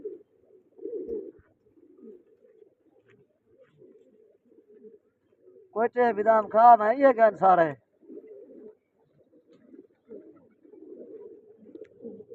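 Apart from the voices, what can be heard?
pigeons cooing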